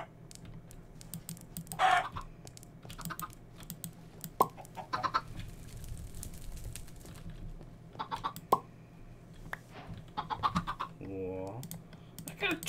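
Chickens cluck in the Minecraft Stone Block 2 modpack, short squawks and a brief crow-like call popping up over steady keyboard typing and low room hum.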